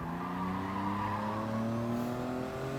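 A Toyota GR Yaris racing at Fuji in Gran Turismo brakes hard into a corner, its tires squealing loudly over the engine's falling drone for nearly three seconds.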